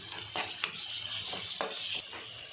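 Chopped tomatoes roasting in a pan with onion and ginger-garlic paste, a soft continuous sizzle punctuated by several sharp scrapes and taps of a spoon stirring against the pan, no voices.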